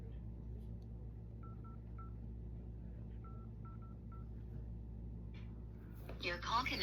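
A telephone keypad sends a short run of steady beeps, each tone brief and evenly spaced, faint over a low rumbling background before a burst of other noise at the end.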